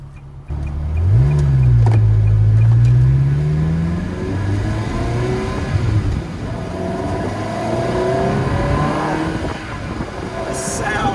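A Ferrari 360 engine revs up and accelerates as the car pulls out into traffic. It gives a loud, rising growl close by, then settles into a steady drone with some speech over it.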